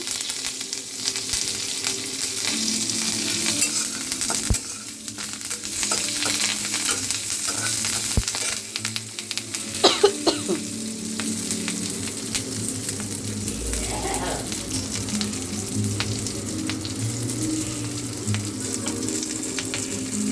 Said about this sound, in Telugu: పచ్చిమిర్చి కొంచెం వేగాలి. పచ్చిమిర్చి వేగాయి. కొంచెం కరివేపాకు వేసుకున్నాం.